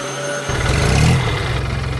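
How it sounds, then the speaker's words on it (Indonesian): A yellow tractor's engine in an animated farm scene, roaring with a steady low rumble that kicks in after a short pause and swells briefly before settling into a continuous drone. "Suara mesinnya menggelegar membuat seluruh pertanian bergetar."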